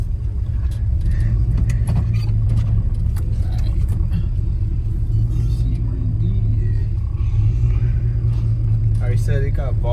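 A lifted 1988 Chevy four-wheel-drive truck engine rumbles low and constant on a test drive, loud and close throughout, with voices talking over it.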